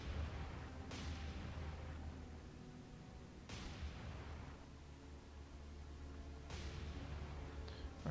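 Heavy naval guns fire in the War on the Sea video game during the Naval Battle of Guadalcanal: three loud, booming salvos spaced a few seconds apart, each with a sharp crack and a rolling tail over a constant low rumble.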